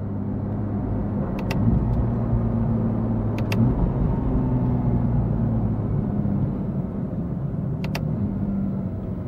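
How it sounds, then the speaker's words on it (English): A Porsche 991.2 GT3 with aftermarket Madtrace shift paddles drives along, its steady low engine and road rumble continuing throughout with faint high clicks now and then. "now we'll get the battery reconnected and take the car out for a spin"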